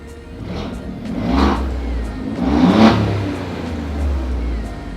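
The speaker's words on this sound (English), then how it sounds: "Now you can have it in any mode, even in the most mild A mode, and you can just jump up here. Now the exhaust is open." An Alfa Romeo Giulia Quadrifoglio engine revs with its exhaust valve open, giving two loud, rising throttle blips over a steady rumbling idle, heard close up.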